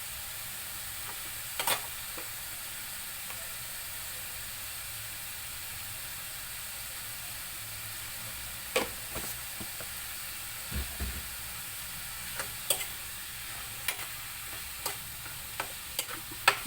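Ground pork with carrots and potatoes frying in a pan, a steady low sizzle under scattered sharp clicks and scrapes of stirring.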